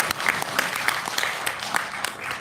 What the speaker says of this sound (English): A round of applause, please, ladies and gentlemen.